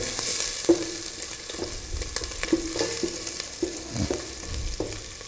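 Ingredients frying in a pan for chicken soup give a steady close sizzle, with stirring scrapes and a few soft knocks over it, and no voices.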